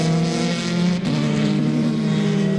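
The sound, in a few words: Formula 3 race cars racing past at Curitiba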